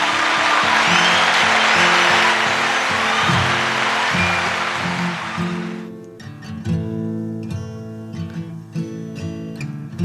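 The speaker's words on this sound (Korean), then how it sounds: "박수" An audience at a singer's live performance applauds loudly for about six seconds, a thick wash of clapping that fades out as gentle instrumental music continues beneath.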